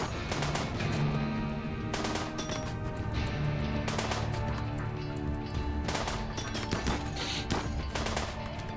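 Rapid machine pistol fire in the video game RimWorld, dense crackling bursts of shots rattling almost continuously, with louder volleys clustering near the start and again around the middle and end, steady and close with no talk.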